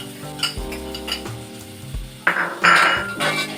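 Garlic frying in oil in a pan with onion, a soft sizzle under clinks of a utensil stirring against the pan, close up, with a louder hiss as the garlic goes in.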